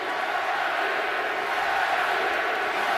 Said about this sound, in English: This crowd's starting to become alive, Tim.